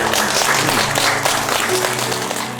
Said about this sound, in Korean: 우리 두분에게 박수 한 번 보내줄까요?